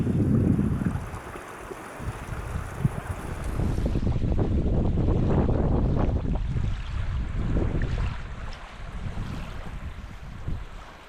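Strong gusty wind buffets the microphone at a mountain camp in the Glyderau, Snowdonia, roaring loudly in waves that swell and ease over several seconds.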